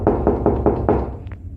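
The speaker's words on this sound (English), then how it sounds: "we heard a loud knock on the door" Five loud, evenly spaced knocks on a door in quick succession, close by, followed by a brief faint higher tap.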